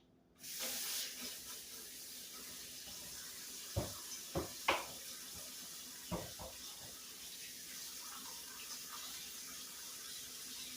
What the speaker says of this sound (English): Wash my hands since I've been playing with raw meat.